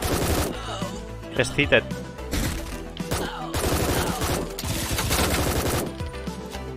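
Gunfire in the tactical shooter game Door Kickers: Action Squad: rapid bursts and volleys of shots crackle loudly and repeatedly, under and between excited talk.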